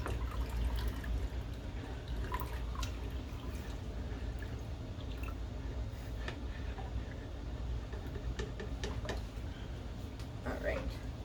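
Citric acid water is poured into a pot of milk and stirred for cheesemaking, giving soft splashing and liquid sloshing over a low background rumble with scattered small clinks.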